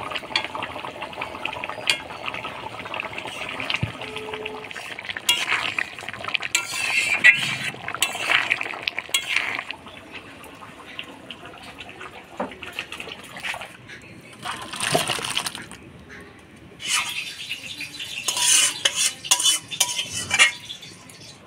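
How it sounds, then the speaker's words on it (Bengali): A spoon stirs aloo dum with ghee and garam masala in a pot, making irregular scraping clinks and clatters in bursts with quiet gaps, while voices talk at times in the background. "এবার ঘি গরম মশলা দিয়ে নাড়াচাড়া করে নামাই দিব"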